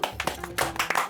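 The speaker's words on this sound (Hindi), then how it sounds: "बहुत ताली बजा" A few people clap hands in an Indian comedy scene, giving a short burst of several quick, uneven claps close by, with a low voice murmuring underneath.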